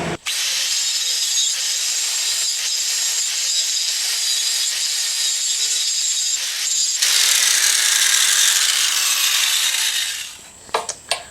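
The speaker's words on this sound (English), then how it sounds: "we're going to just grind that part off until we're past it" An angle grinder grinds the link pins off a Honda CRF250L motorcycle chain during a chain and sprocket swap, a loud steady high whine held for about ten seconds that rises in pitch partway through, then stops.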